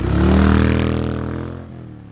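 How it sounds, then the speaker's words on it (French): A motorcycle engine revs once in a single strong swell, then fades away over about two seconds. It sounds close and loud, with no voices. "Moto."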